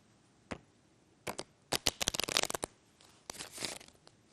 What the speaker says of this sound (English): It looks like a regular riffle shuffle.